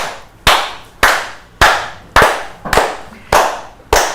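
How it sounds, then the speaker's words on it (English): Seven loud, sharp hand claps land in a steady, evenly spaced rhythm, close up, marking India's World Cup cricket win over Australia at Chepauk. "How much ever we clap, it is not enough"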